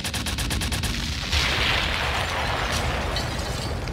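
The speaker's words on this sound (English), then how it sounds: "Sparks, drop a bomb on him, man." A DJ bomb sound effect dropped at a UK reggae sound clash, opening with a rapid burst of sharp repeated hits, then a loud whooshing blast that rolls into a sustained rumbling roar, with no talk over it.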